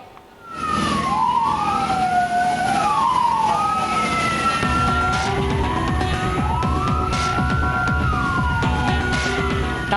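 Sirens from at least four fire engines wail at once, overlapping rising and falling tones, loud and close over the rumble of heavy engines, at a burning public transport vehicle.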